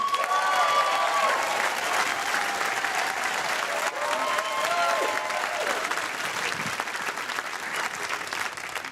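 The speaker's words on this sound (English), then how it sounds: "Big round of applause for Isaac Pendergrass" A comedy club audience gives a sustained round of applause for a comedian being introduced, with dense clapping and some crowd noise, and a few voices call out over it.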